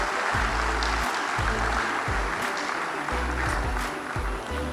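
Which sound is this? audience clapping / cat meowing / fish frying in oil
audience clapping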